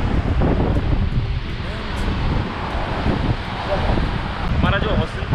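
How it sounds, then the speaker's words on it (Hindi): A strong wind roars across a bridge in Kasol in the Parvati Valley as steady, heavy microphone buffeting that barely lets up over several seconds. "क्या ज़बरदस्त हवा चल रही है"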